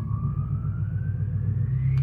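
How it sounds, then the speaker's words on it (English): A loud truck passing close by on a street, a heavy low engine rumble with a rising whine above it, steady throughout and with no one talking. "that truck is so loud"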